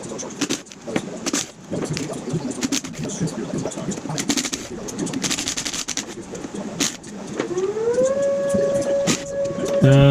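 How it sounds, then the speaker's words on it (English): A distant Oklahoma tornado siren slowly winds up, its rising wail swelling toward the end over a steady background of outdoor noise and faint bird sounds. "Oklahoma tornado siren."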